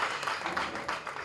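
Audience applause at a book launch event, a brief wash of steady, fairly distant clapping across the whole moment.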